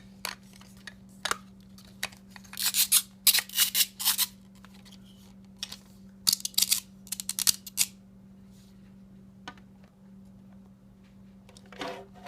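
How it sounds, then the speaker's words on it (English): Moving the legs of a LELE Jurassic World T-Rex plastic brick toy produces bursts of scratchy grinding plastic, several short clusters close up over a faint steady hum, with no talking. "The legs, though, when you move them, has that weird grinding plastic noise."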